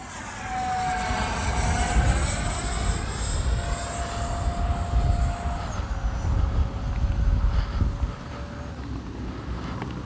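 An RC L-39 model jet aircraft flies past with a loud turbine whine that slides down in pitch as it passes, under continuous rushing wind noise.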